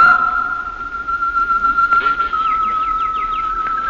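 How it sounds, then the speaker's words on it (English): Birds in an aviary sing with a steady high whistling tone and quick repeated chirps, moderately loud over a quiet background, as a staged radio drama sound effect. "I went into the aviary as she suggested, and I listened to the birds."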